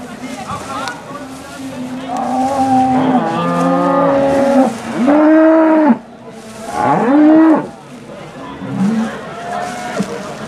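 Several cows low in a row, with long, rising and falling calls that overlap at times, loud and close in an open farm setting.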